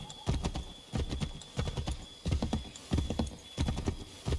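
Horse hooves clip-clop in a steady, rhythmic gait in the video game Assassin's Creed 3, with repeated clusters of hoofbeats that sound close and clear, no talking.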